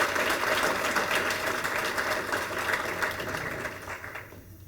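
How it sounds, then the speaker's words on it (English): Audience applause at an award banquet, a steady, dense wash of clapping from a crowd that holds strong for several seconds, then thins and fades toward the end. "Carnahan, let's give them a round of applause."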